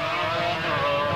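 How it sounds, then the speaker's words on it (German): A Formula 1 racing car engine overtaking, a sustained high-pitched whine held at full throttle, loud and steady with no talk. "Er nutzt seinen überlegenen Motor, um aus dem Windschatten heraus an ihm vorbeizuziehen"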